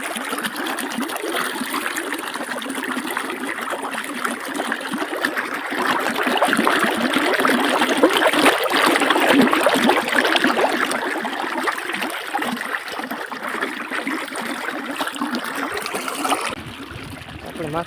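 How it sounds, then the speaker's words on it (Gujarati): Running water splashes and trickles as someone washes their face outdoors at a farm field on a hot day, a close, steady flow that swells in the middle, with no talk over it. "પછી એક મોઢું મોઢું ધોઈ લઈએ પાણી કેમ હોય"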